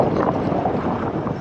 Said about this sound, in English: So, man, it's windy.